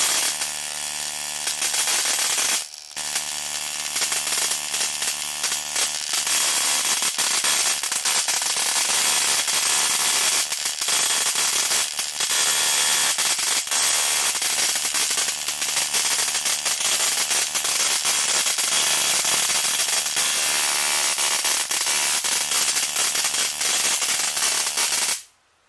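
High-voltage arcing from an ignition coil driven by a 555 circuit crackles in a dense, rapid, buzzing snap that runs loud and continuous for about 25 seconds, with a brief dropout early on and a sudden stop at the end.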